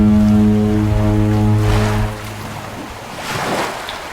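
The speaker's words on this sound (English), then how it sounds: "Oh, a ship! I hear a ship somewhere." A low, sustained ship horn sounds over rolling ocean waves and wind in the video game That Dragon Cancer, the steady harmonic blast holding for about two seconds before fading into the surf wash.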